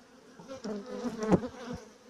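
Honeybees hum and buzz around an open beehive frame, a short, close, wavering drone that swells in the middle and fades again, with no talking.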